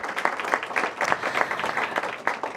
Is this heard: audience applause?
yes